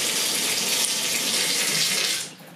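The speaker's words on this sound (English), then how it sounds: "This should be able to turn on the shower" Water runs steadily from a shower, a loud broad hiss of spray that continues evenly, then drops away abruptly near the end as the flow is shut off; no voices are heard.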